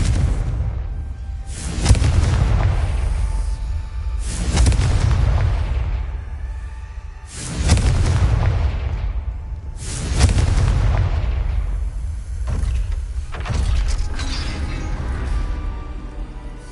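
Confringo fire spells in Hogwarts Legacy go off as a series of heavy, booming explosions, roughly five deep blasts spaced a couple of seconds apart with rumbling tails, loud and up close and heard alone.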